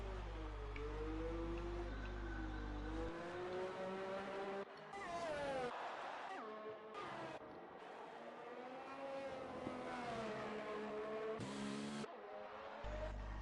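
An F3 race car engine, heard onboard at Belgium, wails up and down through a chicane, its revs repeatedly rising and dropping with brief gaps and some tire squeal as the rear slides.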